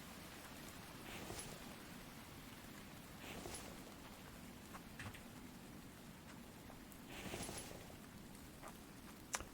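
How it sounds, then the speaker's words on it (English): Steady rain in the survival game The Infected, a soft even hiss of falling drops at moderate distance, with a few faint louder swells and no voices. "we got rain filling up our basins"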